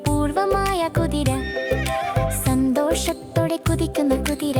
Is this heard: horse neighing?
yes